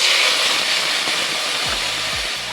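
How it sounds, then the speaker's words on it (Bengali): Water poured into a frying spice paste for a raw banana curry sets off a loud, steady, broad hiss that carries through the whole moment without pause. "মশলা কষানো হয়ে গেছে, এখন একটু জল দিয়ে দেবো।"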